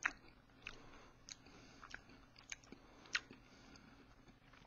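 Close, quiet chewing of a crunchy triple chocolate chunk cookie, with irregular sharp crunches and bites popping out over a soft background.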